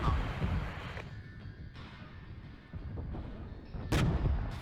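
Shoulder-fired MANPAD missiles hit units in the Regiments real-time strategy game, with muffled distant booms and bursts of gunfire rumbling through a quiet battlefield ambience.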